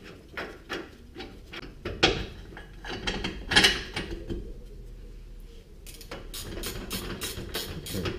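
A hand ratchet snugging a bolt on a new Bilstein shock strut during a GMC Envoy strut replacement: close, rapid bursts of metallic clicking in repeated strokes, with short pauses between runs and no talking.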